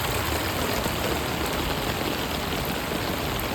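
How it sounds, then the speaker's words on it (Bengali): A torrential downpour in Dhaka keeps up a thick, unbroken roar of rain hitting the ground and nearby surfaces, loud and even throughout, with no talking. "প্রচুর বৃষ্টি হচ্ছে,"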